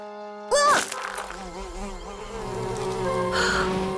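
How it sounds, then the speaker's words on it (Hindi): Bees swarming from a large beehive in a Jungle Book cartoon, a loud, close buzzing drone that rises after a sharp hit and carries on continuously, with a voice briefly over it. "लगता है ये चट्टान नहीं, एक बड़ा मधुमक्खी का छत्ता है।"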